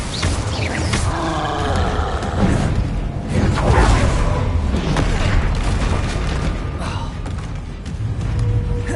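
An Incendio fire spell cast in Hogwarts Legacy, a loud roaring whoosh of flame with booming impacts and rumbling bursts that continue without a break over the game's background sound.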